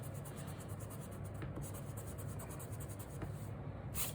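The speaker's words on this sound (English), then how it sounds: "I got this eraser pencil. So let's see how that does and everything." An eraser pencil rubs back and forth across paper while removing marker and pencil from a comic drawing, making a soft, steady scratchy friction close to the microphone, faint and continuous without any talking.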